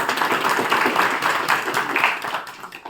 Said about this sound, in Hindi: चलो खुशी की ताली बजा लो।